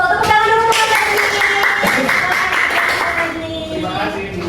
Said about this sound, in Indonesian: tepuk tangan dulu untuk Mas Najmi.